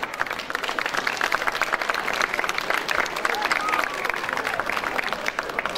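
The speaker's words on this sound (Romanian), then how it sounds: "Haideți să-i aplaudăm." Steady audience applause fills a stage show, a dense continuous patter of many hands clapping at moderate distance, sustained through the whole stretch.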